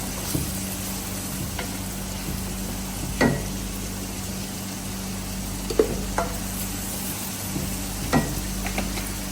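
Ginger paste frying with well-browned onions in a pan for Arabic chicken biryani, a steady low sizzle under a constant hum, with a few sharp spoon-against-pan scrapes and clinks scattered through.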